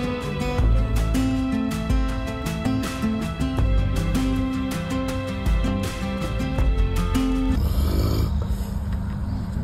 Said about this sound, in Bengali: ট্রেন জার্নি কমপ্লিট হয় না নাক ডাকা না শুনে।